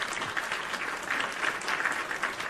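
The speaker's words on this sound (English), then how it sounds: "Another round of applause for the captain." Round of applause for a fallen captain in the Genshin Impact video game: dense, steady clapping from a crowd that holds evenly at a moderate distance, with no talking.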